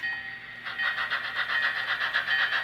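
Bachmann Alco Mogul model locomotive with a sound decoder, giving a quick run of evenly spaced, hissing chuffs at a steady beat, fairly faint and heard alone.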